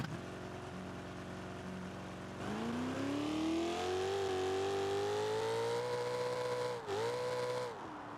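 A loud engine of a 1969 Chevelle drag car on nitrous revs hard and climbs steadily, with a sudden spike in pitch as the wheels spin, then settles back.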